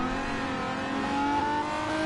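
Race cars in a racing video game rev and drone steadily, turbocharged and naturally aspirated engines running together in a constant, loud engine tone with no talk.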